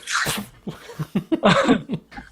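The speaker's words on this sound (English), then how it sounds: "Just a couple of sneezes as we shift everything around" A few quick sneezes, sharp bursts with breathy intakes between them, close and fairly loud.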